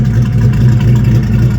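Restomod 1964 Chevy II Nova with an LS1 engine running, a loud, steady low rumble held close with no talk.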